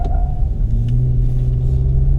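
A 2020 Toyota Avalon TRD at full throttle, heard from inside as a loud, steady low engine drone and road rumble with a slowly rising tone, no clear shift.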